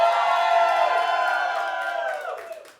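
A comedy club audience at a sold-out stand-up show screams and cheers on cue, a loud sustained roar of many voices with whoops that fades out over about three seconds.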